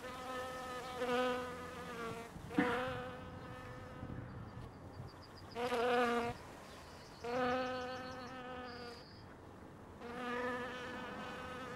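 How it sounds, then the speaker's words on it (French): Bees, hornets and bumblebees buzzing around flowers in the countryside, several close passes of humming wings that swell and fade in turn, some higher and thinner, others deeper, with quiet gaps between. "Des frelons, des bourdons et surtout des abeilles."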